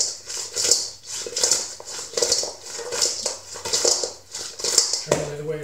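Buffalo chicken wings being tossed in a bowl, a steady rhythm of about eight wet swishing shakes at roughly even intervals, fairly close, with no talk.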